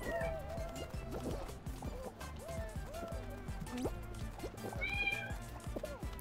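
Cartoonish cat meows ring out repeatedly in the Fall Guys video game, a string of short rising and falling calls over busy game music and sloshing effects, with a brief brighter burst near the end.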